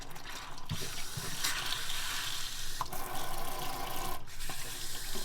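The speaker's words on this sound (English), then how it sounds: "Just try the tap, purge it all through." Water runs steadily from a motorhome tap being purged after a leak repair, a continuous close splashing flow with a few small clicks and knocks, no one talking.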